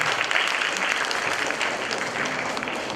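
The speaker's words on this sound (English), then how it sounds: "Please clap for Madhirajan." An audience claps at a student induction program, a steady, dense roar of many hands applauding continuously at an even, fairly loud level.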